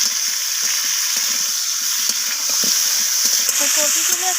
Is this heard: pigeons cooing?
no